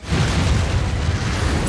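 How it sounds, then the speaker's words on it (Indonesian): An explosion in an animated episode, a dense low-pitched boom that starts suddenly and rumbles loudly and steadily for well over a second, with no speech. "sebuah ledakan tiba-tiba bergema"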